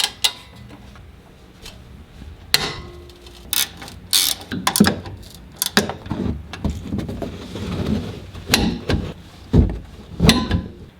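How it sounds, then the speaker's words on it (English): Lower shock bolt being torqued on a 2020 Toyota Tacoma TRD Pro during a suspension lift install, using a wrench with an extension: a series of sharp metallic clicks and ratcheting bursts, close and fairly loud, with no talking. "We're gonna torque our lower shock bolt."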